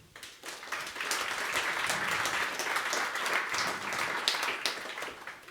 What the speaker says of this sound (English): Give him a good applause.